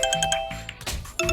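A phone rings in a Telugu crime thriller film scene, playing a bright, electronic, chiming ringtone in quick repeated bursts with a brief gap in the middle. No one speaks.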